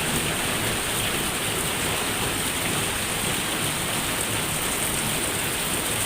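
Heavy rain pours steadily outdoors in a late rainy-season downpour, a dense, continuous hiss of drops striking surfaces at an even level throughout, with no talking.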